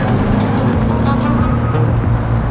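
Kia Stinger engine drone while driving, a steady low rumble with road and wind noise filling the cabin continuously and loudly, no speech.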